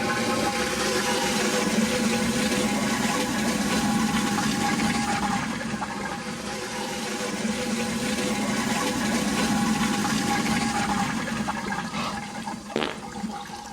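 A toilet flushes in one long continuous rush of water, loud and close, with swirling and gurgling that carries on for over ten seconds before a brief knock near the end.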